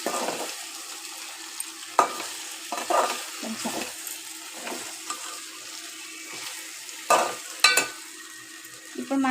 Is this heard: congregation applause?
no